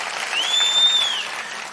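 A crowd at a political speech by Seeman applauding together, a broad continuous wash of clapping that swells slightly and then eases, with a faint whistle riding over it.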